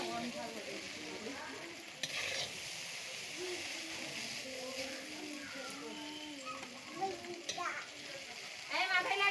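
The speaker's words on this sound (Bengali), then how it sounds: "এই যে দেখো, সবজির সঙ্গে চাউমিনটা ভালো করে মিক্সড করে নেওয়া হচ্ছে।" Chow mein is stirred and fried with vegetables in a pan, making a soft, steady sizzle with scraping stirs and clinks. A voice talks over it throughout.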